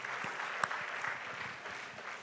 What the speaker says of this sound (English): please join me in one more final round of applause for our speakers, organizers, and all participants